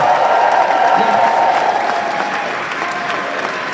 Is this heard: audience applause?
yes